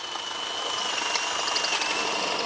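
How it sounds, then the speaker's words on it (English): A steady high-pitched power drill whine runs continuously at close range, loud and even, with faint grinding as a larger bit bores out a broken stud in a Mitsubishi Eclipse GSX engine. "So right now I'm clearing out the rest of the stud that did not wanna go"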